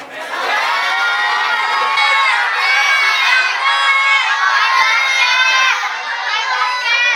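A loud group of children at an English camp shouting together in unison, a sustained chorus of high voices lasting several seconds with no pauses.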